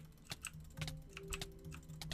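Fingers typing on a multicolour mechanical keyboard with raised keys, a quick irregular run of sharp clicky keystrokes, close and quiet, with no talking.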